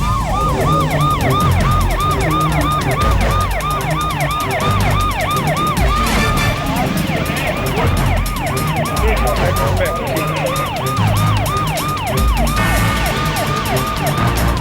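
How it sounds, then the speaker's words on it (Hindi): Police car sirens wail at Palika Bazaar near Connaught Place in Delhi during a commando mock security drill. Several loud, overlapping rising and falling sirens sound continuously and close by, with engine rumble underneath. "दिल्ली के दिल कनॉट प्लेस के पास पालिका बाजार में अचानक पुलिस के सायरन गूंजने लगे।"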